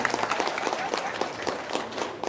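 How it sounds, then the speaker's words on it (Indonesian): An audience clapping in a dense, steady patter of many hands, fairly close and continuous, with some voices mixed in. "Tepuk tangan dong"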